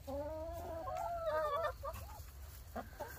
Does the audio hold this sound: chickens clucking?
yes